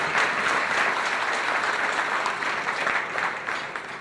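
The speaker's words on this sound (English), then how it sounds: "Please give them all a big round of applause." Dinner audience applauding at a 2008 unity dinner, a sustained, dense round of clapping from many hands at steady loudness, tapering slightly toward the end.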